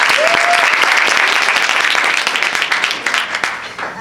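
An audience gives Marisol a loud, dense burst of applause that thins and fades over the last seconds, with a brief whistle-like tone near the start.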